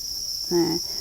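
Crickets in a cricket-farming pond chirp with a steady high-pitched trill, joined by a brief lower buzzing chirp near the middle, close and continuous.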